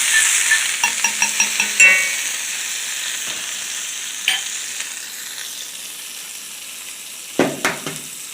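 Steady sizzling and frying in a skillet with a few sharp clinks and scraping stirs near the start, then intermittent clatter; no voices.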